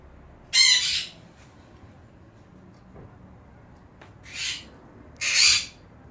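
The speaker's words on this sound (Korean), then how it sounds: "우리 새들이 앵무새 네 마리가 여기서 노는데" Four pet parrots give three loud, harsh squawks spaced across several seconds, each a short burst standing alone over quiet room background.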